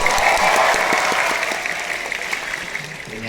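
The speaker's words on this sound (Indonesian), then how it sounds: "Semuanya tepuk tangan." An audience at a simple community event in West Java bursts into loud applause that starts strong, then thins into scattered claps and fades gradually toward the end.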